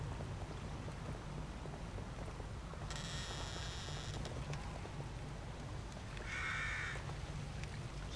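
Crow caws in a video game, two short harsh bursts around the middle and near the end, heard over a steady low ambient bed that resembles rain or wind, with no speech.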